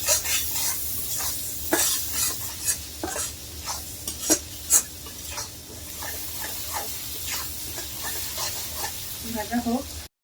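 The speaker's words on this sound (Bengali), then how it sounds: "একটু ভেজে নিব।" Rohu fish curry masala frying in a pan, with steady sizzle under repeated stirring scrapes and clicks of a utensil, close and moderately loud.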